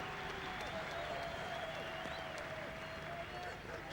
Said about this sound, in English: Crowd enjoying that on the big electronic screen and giving him another round of applause